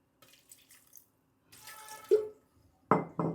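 Water poured into a mixer jar holding salt for an onion chutney gives a short splashy trickle, then two louder close pours near the end.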